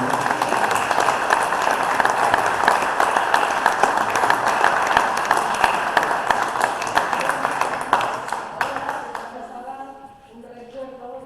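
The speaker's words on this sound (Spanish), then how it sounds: "Así que por todo eso vamos a dar un gran aplauso." An audience applauds at length after a lecture on the history of sport sailing in Spain, a dense steady wash of clapping that tapers off in the final seconds.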